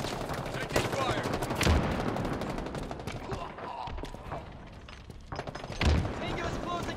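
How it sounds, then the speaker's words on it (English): Bursts of video game gunfire with sharp shots and heavy booms at about 1.7 and 5.9 seconds, over a steady loud mix of game effects and music, with people talking over the shooting. "Taking fire."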